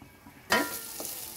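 Peanuts cooking in a pan for nellikkai (gooseberry) rice give a sudden burst of frying sizzle and stirring after a quiet start, then a softer second scrape, close and moderately loud with no talk.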